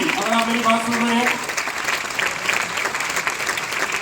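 An audience claps loudly and steadily to welcome a guest on stage at a business event, the applause filling the clip while someone speaks briefly over its start.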